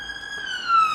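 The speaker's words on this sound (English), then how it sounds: "There's an ambulance going by. That is not a sound effect. That's a real ambulance." A real ambulance siren sounds in the distance as it passes, a single steady wailing tone with strong harmonics that swells slightly louder toward the end of the short moment.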